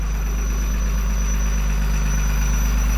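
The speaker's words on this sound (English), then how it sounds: "Exhaust leak right on the manifold." A truck engine with an exhaust manifold leak idles loud and close, a steady low rumble with a rapid ticking pulse and a thin high whistle running over it.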